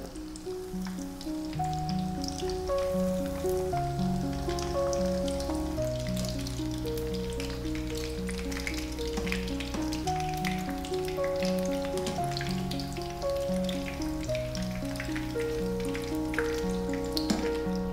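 Fish spring rolls (lumpiang isda) crackle and sizzle steadily as they fry in hot oil, a continuous close frying hiss under background music with no talk.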